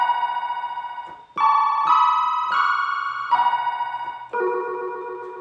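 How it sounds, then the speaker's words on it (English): An old-school telephone ring sound played on a Pyle PKBRD37WT keytar: a buzzy, electronic warbling tone sounding alone in several sustained steps that shift pitch up and down. "It is the sound of a telephone."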